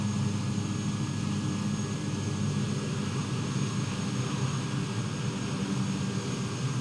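A Kodiak propeller aircraft taxis on a runway after landing, its engine a steady, close droning hum with a constant high whine, unbroken and without voices.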